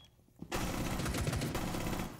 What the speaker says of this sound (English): Actually, a nice shot by Alibi.